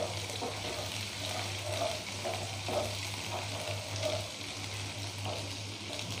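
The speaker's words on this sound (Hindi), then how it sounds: "अब इसमें डालेंगे थोड़ा सा कटा हुआ प्याज। इसे भी चलाएंगे, थोड़ा सा भूनेंगे।" Chopped onion for rajma sizzles quietly in a pan while being stirred, giving a soft, even frying hiss with gentle scraping over a low steady hum.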